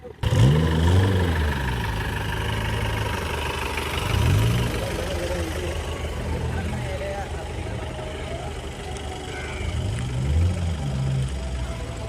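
Modified Mahindra Classic off-road jeeps idle in a lineup at an off-road event in Alleppey, Kerala, a steady low engine rumble with a few throttle swells, while people talk nearby over it.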